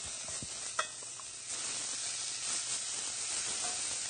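Onions dropped into hot oil with rice for artichoke risotto, a bright steady sizzle and crackle rising sharply after a brief stir, close and alone without talk.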